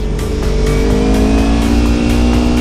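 A motorcycle engine revs loudly and close while riding through a parking structure, its steady droning roar rising in pitch across a short burst.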